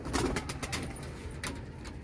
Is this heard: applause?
no